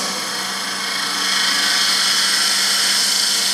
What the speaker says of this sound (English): So I'm taking a light cut with this,